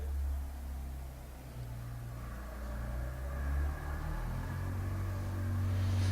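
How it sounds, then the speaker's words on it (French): Cars pass on roads surrounding an old abandoned house, a steady low rumble with an engine swelling nearer toward the end, no voices. "Vous entendez des bruits de voiture, c'est normal parce qu'on est entouré en fait de routes"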